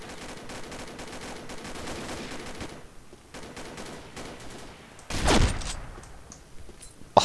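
Shotgun blasts go off in the Combat Arms online shooter, with rough bursts of gunfire and a louder close shot near the end, free of talk.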